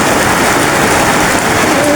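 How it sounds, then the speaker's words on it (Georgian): Heavy rain pours down continuously in a forest camping area, a loud, dense, unbroken roar of falling water throughout. "მხრიდან გზაში უკვე გვეწეოდა წვიმა"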